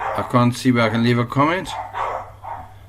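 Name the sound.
dogs barking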